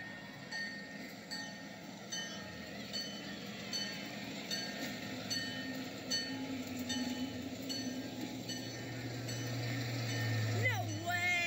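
A Western Maryland F7A locomotive pulling a train past, a steady rumble of the engine and rolling cars with faint clicking of wheels, building in loudness toward the end, with a person's voice briefly heard.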